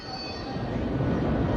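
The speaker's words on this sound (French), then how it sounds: "this brand new Metro Express." Paris Metro Express train (RER line from Place de la Nation), newly opened in the early 1970s, running with a steady loud rumble of wheels and carriages throughout, a faint high whine above, no clear speech.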